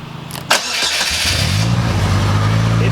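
A Polaris Slingshot roadster is started with the key: a brief starter crank, then the engine catches and settles into a loud, steady idle, close by and with no talk.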